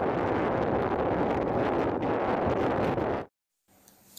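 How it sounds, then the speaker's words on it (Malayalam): Strong wind rushes steadily through a forest, a loud continuous roar buffeting the microphone before it cuts off abruptly into near silence. "അപ്പോൾ നിങ്ങൾ ആ കാറ്റിൻ്റെ ശബ്ദം ഒന്ന് കേട്ടെ"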